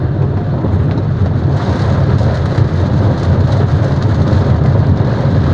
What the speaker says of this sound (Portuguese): E agora, enfrentando chuva,